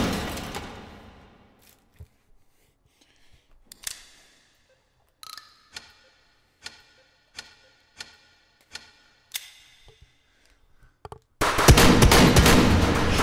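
Gunfire in the VR shooting game H3VR: a burst of shots, then a series of single sharp reports spaced about a second apart, ending in a loud, dense stretch of sound.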